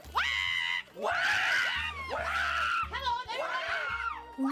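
A group of people shriek loudly in imitation of a bird with a red tail and yellow wings, several rising, harmonic squawks in a row with a voice calling out between them, set against faint low background sound.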